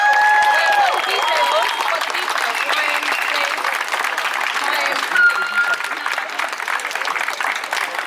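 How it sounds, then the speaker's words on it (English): A crowd at a Coventry protest applauds with sustained clapping, fairly loud and close, with a few cheers and whoops mixed in. "Give them a round of applause."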